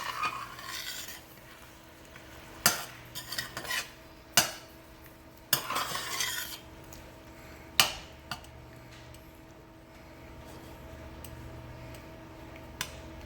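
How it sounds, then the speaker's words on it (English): Shrimp being stirred in a pot, several sharp utensil knocks and scrapes against the metal spread irregularly over a quiet background with a faint low hum. "I'm going to stir this around a little bit."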